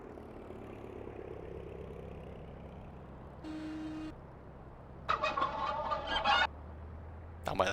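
Chickens on a farm in Farming Simulator 15, on the Pleasant Valley map, let out short bursts of clucking fowl calls. The calls come in two or three separate bursts over a low, steady background hum, with no one speaking.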